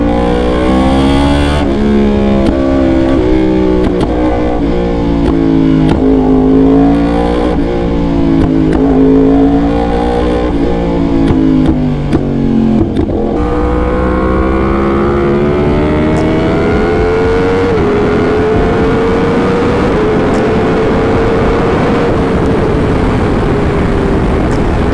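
A Yamaha R1 with a crossplane crankshaft roars through its exhaust, rising and falling through revs in a loud, continuous pass with a sustained high pull near the end, no talking.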